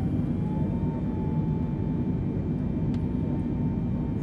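Steady, loud roar of the Antonov An-225's six jet engines at full throttle in Microsoft Flight Simulator 2020, a constant broadband rumble with a faint whine, unchanging for the whole stretch.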